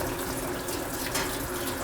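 Water pouring onto a jacket seam during a leak test, a continuous hissing, splashing stream that stays steady and fairly quiet with no voices.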